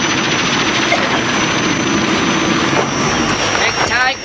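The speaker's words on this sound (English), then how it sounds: "The royal family use helicopters to visit the more isolated parts of Thailand." A helicopter flying on a royal visit to isolated parts of Thailand, a loud, steady engine and rotor roar filling the whole stretch with no talk over it.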